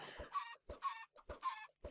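Chickens in Minecraft cluck in four short quick bursts, close and fairly quiet, with no talk.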